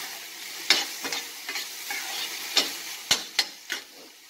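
Sliced onion lightly sautéing in a pan for veg spring rolls gives a soft steady sizzle, broken by several sharp stirring scrapes and clacks at irregular intervals, with no voices.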